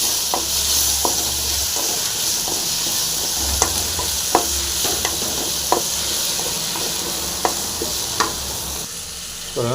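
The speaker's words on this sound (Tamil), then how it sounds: "சாம்பார் வெங்காயம் போட்டுடலாம். போட்டு நல்லா ஃப்ரை பண்ணிடலாம்." Shallots stir-fried in a pan for a green chilli gravy, a loud constant sizzle with regular scraping and tapping of the spoon against the pan, close and without talk.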